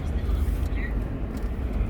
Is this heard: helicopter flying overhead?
yes